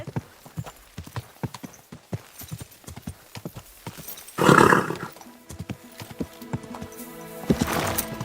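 Steady clip-clop of horse hooves in the video game Kingdom Come: Deliverance 2, an irregular trot close by, with a short loud burst midway and a rising rumble near the end.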